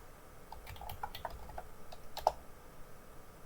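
A password being typed on a computer keyboard: a short run of soft, irregular key clicks ending in one sharper tap, close and quiet, with no voices.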